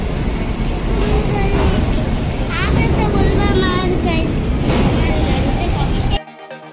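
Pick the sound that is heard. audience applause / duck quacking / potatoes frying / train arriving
train arriving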